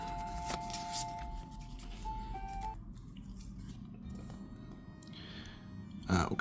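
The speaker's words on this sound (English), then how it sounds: "So we'll have to shuffle these again." Cards for The Hunters A.D. 1492 board game are shuffled close by in soft riffling bursts, with a brief crisp snap near the end, while people talk quietly over the play.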